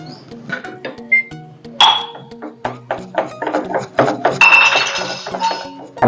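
Eggs for muttai mittai are beaten in a bowl with a utensil, giving a run of close, sharp clinks and clatters against the rim in quick uneven bursts, with brief faint voice sounds between them.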